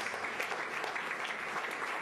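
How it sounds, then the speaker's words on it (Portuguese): A church congregation at a service breaks into sustained, dense clapping, a continuous wash of many hands at fairly close, even loudness for a couple of seconds, with no voices over it. "Vamos aplaudir a Deus pela vida do reverendo pastor Beto, em nome de Jesus."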